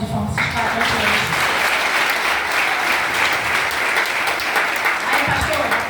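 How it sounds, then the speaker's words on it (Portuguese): A church congregation at an Assemblies of God youth festival gives loud, sustained applause, dense clapping that fills the hall for several seconds without a break. "vamos dar uma salva de palmas, esses quatro hoje"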